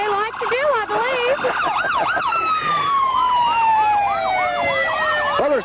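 Police car sirens wail and yelp at the start of a 1994 Christmas parade in Lake Wales, Florida, several overlapping tones sweeping up and down, loud and steady throughout.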